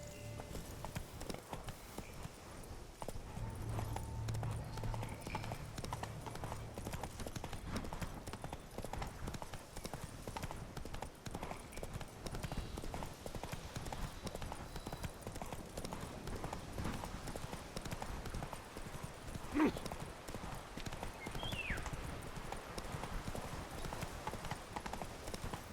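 Horse hooves clip-clopping at a steady riding pace in The Witcher 3: Wild Hunt, Blood and Wine, a continuous rhythmic trot under ambient game sound with a brief whinny midway.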